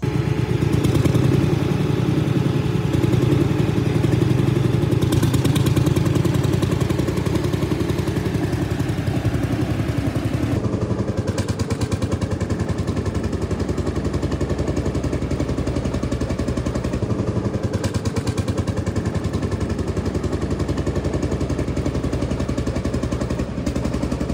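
A loud, steady motor roar with rattling clatter runs throughout, heavy engines of an Ursus C45 and an Arbos 2040 tractor laboring continuously without pause during a two-wheel-drive pulling test.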